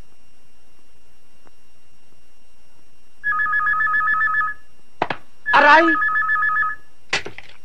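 A telephone rings with two electronic bursts of ringing, close and clear, in an office setting; a man cries out between the rings and a short click follows.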